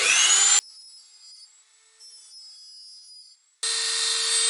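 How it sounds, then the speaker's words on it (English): A grinder fitted with a cutting head shapes material during a build, loud harsh whirring bursts at the start and end with quieter whining between them, and no talking. "So get rid of the cutting disc, put it in a grinder. Well, this is actually a cutting head."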